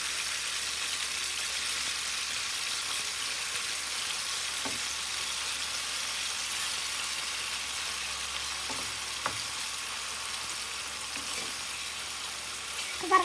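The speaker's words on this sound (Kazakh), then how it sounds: "Етімізді қуырып аламыз." Chopped meat frying in hot oil with garlic for a funchoza salad, a steady dense sizzle and crackle running throughout with a few sharper pops near the end.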